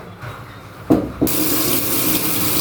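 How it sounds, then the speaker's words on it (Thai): Water gushes from a tap during a faucet repair. A couple of sharp knocks of the fixture come first, then a steady, loud rush of flowing water that continues to the end. "เราเปิดน้ำเข้าก่อน"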